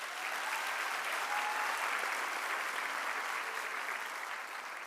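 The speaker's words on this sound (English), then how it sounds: "So please, can you give that a round of applause?" An audience at a healthcare sciences declaration ceremony claps in a full, even round of applause, a dense steady patter sustained for several seconds in a large hall with no voices over it.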